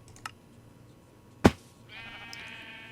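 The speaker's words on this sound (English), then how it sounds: "We got sheep everywhere." Sheep in a video game survival world, with a single sharp bleat-like burst standing alone, then a faint sustained tone, with small clicks around it and no talk.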